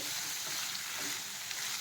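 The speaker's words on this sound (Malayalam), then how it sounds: "അതിന് കടുക് വറുത്ത എണ്ണയിൽ ആ മീനിനെ ഒന്ന് വഴറ്റിന്നേ ഉള്ളൂ." Dried fish sautéing in mustard seed oil, a steady close sizzle and crackle for a couple of seconds with no talking.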